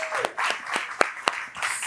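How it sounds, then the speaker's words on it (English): Sparse clapping from a room of people at a philanthropy lunch gathering, a handful of distinct claps in an uneven rhythm over a quiet background. "A big round of applause to everybody in this room."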